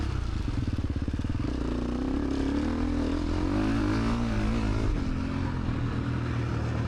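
An enduro motorcycle engine at a Lithuanian Enduro Championship round revs loud and close, its droning pitch swelling and easing off in waves as the throttle rises and falls.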